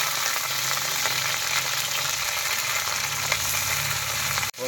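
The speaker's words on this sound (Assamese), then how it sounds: "গাহৰি মাংস দিলোঁ। গাহৰি মাংসটো আগতে ভাজি লওঁ।" Pork pieces fry in a pan of onion and chillies, a dense, even sizzle with faint crackles and light stirring, heard close up without any voices.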